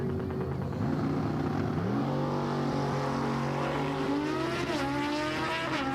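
A drag race on a strip pits an ultra-slick Hayabusa motorcycle against a car. Engines roar at full throttle and climb through the gears as they launch and pull away, loud and steady throughout.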